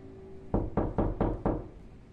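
Five firm knocks land on a door in an even, unhurried rhythm, each one loud and close, with a low resonant thud and no voices over them.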